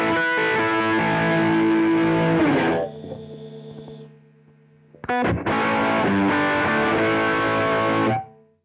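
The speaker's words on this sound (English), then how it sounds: "This is the heavy distortion." An electric guitar played through a Shaevle pedal set to heavy distortion gives loud, thick, saturated chords and sustained notes, with a brief quieter ringing pause before strumming resumes.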